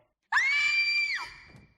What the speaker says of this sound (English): I heard screaming.